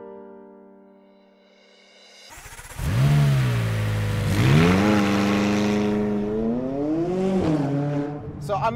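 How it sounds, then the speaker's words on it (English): A McLaren 570S sports car accelerates hard on Zwartkops Raceway. After a quiet start, the engine roars in and climbs through rising revs, with short dips at gear changes, staying loud and close throughout. "This is the McLaren 570S, and we're here at Zwartkops Raceway to find out what it's all about."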